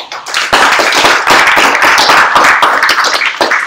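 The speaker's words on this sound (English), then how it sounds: "Please give an applause." Loud, close audience applause at a university sustainability rankings ceremony, with sharp individual claps that build quickly into a dense, sustained round.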